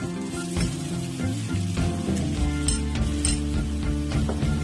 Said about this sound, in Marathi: आता याच्यात आपल्याला तेल टाकून घ्यायचे